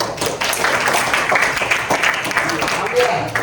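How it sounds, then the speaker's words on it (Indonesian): A classroom of students claps for everyone during a math lesson: dense, busy clapping with scattered taps and thuds, close and continuous for a few seconds. "Oke, tepuk tangan buat semuanya."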